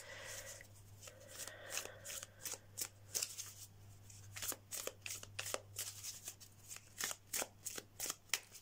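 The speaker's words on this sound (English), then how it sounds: "I'm just going to get some oracle cards" Oracle cards are shuffled by hand in quick, crisp riffling flicks that grow into a steady rhythmic patter of slaps, close and clear over a low constant hum.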